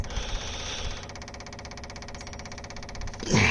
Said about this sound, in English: I'm just messing with the throttle here. I'm pulling the throttle down some more.